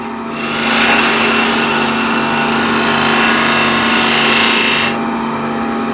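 A small spindle gouge cuts wood on a spinning lathe, making a loud, steady, broadband shearing hiss for about four seconds before the cut stops and only the lathe's hum remains.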